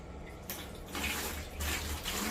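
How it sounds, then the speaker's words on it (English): Three gallons of nutrient-mixed water pour from a bucket into a watering can in a steady rushing splash that comes in a few surges, close and alone. "I'm going to dump my 3 gallons into the watering can."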